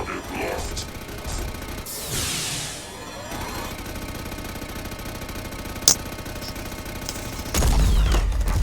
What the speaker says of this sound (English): Why is it trying to excavate with the machine guns?